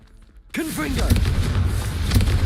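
A Confringo spell blast in the Hogwarts Legacy video game bursts in suddenly after a quiet moment, a loud booming impact followed by a sustained roaring rumble with faint voice-like tones mixed in.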